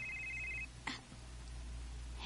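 A cellphone rings with an incoming call: a steady electronic tone lasts about half a second and then stops, followed by a faint click in a quiet room.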